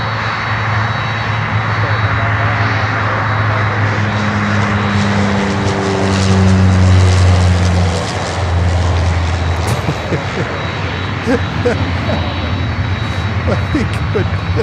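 An aircraft on runway 9 produces a loud, continuous engine roar with a droning tone that swells mid-way and then eases, heard from nearby. Faint talking can be heard under the engine noise.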